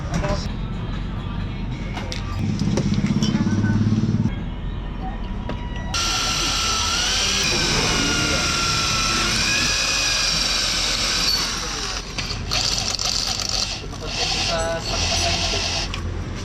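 A power drill bores a hole in the exhaust pipe of a Yamaha Sniper 150 motorcycle, a loud steady whine rising and wavering in pitch as the bit cuts, close up in a noisy workshop with talking around it.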